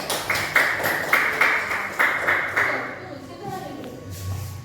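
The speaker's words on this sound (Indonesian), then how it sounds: "Tepuk tangan dulu untuk teman kita." A classroom of children claps for a classmate, a run of sharp, fairly regular hand claps close by for about three seconds before fading into a quieter room murmur.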